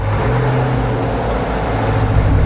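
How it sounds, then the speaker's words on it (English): A Chevrolet Corvette C8 engine runs with a loud, steady, close rumble and no pauses or voices. "So for you guys to turn the car on, apply the brake and tap on the engine start."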